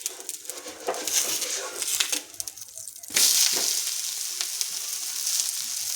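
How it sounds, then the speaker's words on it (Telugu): A moong dal dosa (pesarattu) fries on a hot pan with oil, giving a steady close sizzle that jumps louder about halfway through as it is turned or stirred. "దోశ కొంచెం కలర్ వచ్చాక రెండో వైపు టర్న్ చేసుకోవాలి."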